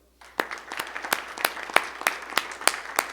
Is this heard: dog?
no